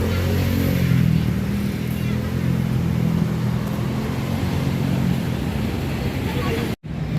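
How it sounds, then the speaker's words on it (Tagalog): Steady road traffic rumbles on MacArthur Bridge over the Pasig River: a continuous, fairly loud low engine drone from passing vehicles, with a brief dropout near the end. "traffic po ngayon dito sa area ng MacArthur Bridge"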